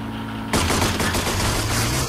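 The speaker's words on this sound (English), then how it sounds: "I've just mounted some miniguns on it. And now I'm going to go kill some bad guys." Sustained rapid minigun fire from a vehicle-mounted gun in the video game Rage, a dense continuous roar that bursts in abruptly after a quiet half second and stays loud to the end.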